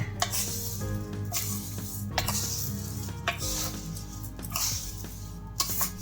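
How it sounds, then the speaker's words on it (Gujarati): A spoon stirs sugar into raw Rajapuri mango murabba in a metal pot, with repeated scraping and clinking against the pot in an irregular rhythm, close and moderately loud, no talking. "જુઓ આવી રીતે આમ હલાવી લેવાનું છે"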